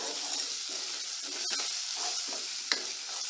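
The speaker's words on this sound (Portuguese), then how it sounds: "Agora eu vou adicionar o alho, dar uma refogada nesse alho." Garlic sizzling in a very hot pan with browned bacon and its fat, a steady crackling hiss with soft stirring scrapes and a sharp clink near the end.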